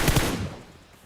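Burst of gunfire in the mobile battle-royale game PUBG Mobile on the Erangel map, a couple of sharp loud shots at the start fading quickly into a short reverberant tail.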